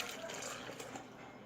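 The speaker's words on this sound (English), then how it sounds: "Pour that milk in there." Milk poured from a carton into a container in a home kitchen, a steady splashing liquid stream heard close up and alone for a moment.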